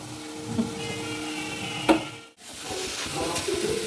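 Grated coconut frying and being stirred in a pan for making pithe, with soft sizzling and scraping strokes, a sharp clatter near the middle, a brief gap, then more stirring.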